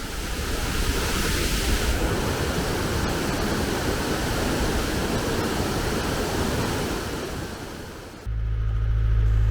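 A cold mountain waterfall at Tatta Pani on the Kishtwar to Killar road, a loud, continuous rushing roar of falling water heard up close, steady throughout before a brief shift to a deeper, closer rumble near the end.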